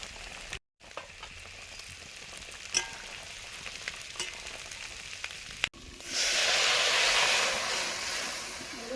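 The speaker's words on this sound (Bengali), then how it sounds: "এবারে ভেজে রাখা মাছগুলো দিয়ে দিচ্ছি।" A loud, steady sizzle of golden carp pieces frying in hot oil swells up after several seconds of quieter kitchen clatter.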